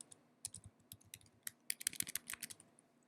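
Someone types on a computer keyboard, typing a short name into a link manager, in a quick, uneven burst of crisp key clicks up close that gets busier toward the end, with no other sound.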